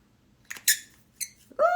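A cosmetic product gives short, high squeaks: a few brief chirps, close and fairly loud in a quiet room, with no talk over them.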